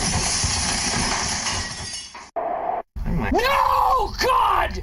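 Staged car crash effect for a Suzuki Swift GT on a snowy day: a loud noisy impact with shattering glass, a sudden cut to near silence, then a person screaming and groaning.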